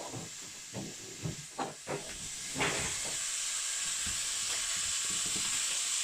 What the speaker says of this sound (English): So you can hear it's beginning to sizzle.